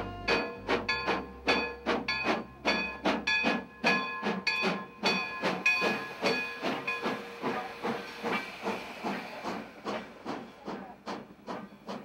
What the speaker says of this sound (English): The historic Grand Canyon Railway steam train arrives at the canyon just ahead of a summer thunderstorm